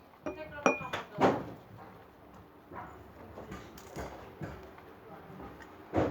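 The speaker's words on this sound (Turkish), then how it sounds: "Ve karıştırıyorum." A spoon clinks against a glass while stirring salt into half a glass of water on a table: a few sharp, close chinks early on, then softer irregular taps and a final clink.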